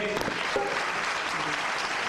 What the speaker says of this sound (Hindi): बहुत बहुत जोरदार तालियां आप सबों के लिए बजाइए खुद होके